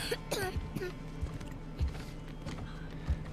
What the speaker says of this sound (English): He's got some sort of cough going on.